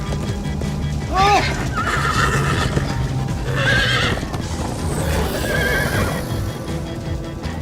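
Horse in the Minecraft Story Mode video game whinnies loudly several times over a steady clip-clop of galloping hooves, close by, with voices talking over it.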